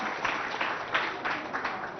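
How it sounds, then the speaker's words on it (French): An audience applauds at a school children's games event, soft, fairly distant clapping in uneven bursts that rise and fall, with faint voices in the background. "Sous vos acclamations."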